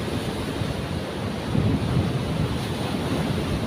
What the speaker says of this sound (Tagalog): Medyo malakas-lakas nga lang yung alon.